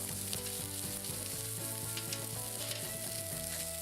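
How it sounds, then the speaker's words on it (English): Dinner of potatoes with pepper, onion and spices wrapped in tin foil sizzles over an outdoor campfire at a lakeside canoe campsite, a steady, continuous frying hiss with an even crackle throughout. "While dinner was cooking over the fire"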